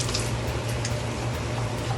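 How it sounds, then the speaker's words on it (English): Tap water runs steadily while something is rinsed in a kitchen sink during roti and pumpkin cooking, a continuous close wash with a low hum beneath and no talking. "Rinse that off."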